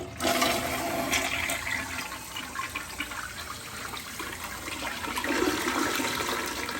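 An old toilet with a newly replaced flush valve runs and refills, a continuous close rush of churning water and tank filling that holds steady throughout with a slight swell near the end.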